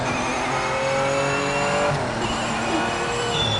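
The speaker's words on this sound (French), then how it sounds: "c'est une petite Porsche 911 hein, des années 80." A 1980s Porsche 911 Carrera in the racing game Project Motor Racing drones steadily with rising and shifting engine tones, loud and continuous, with a brief tire squeal near the middle and no talking.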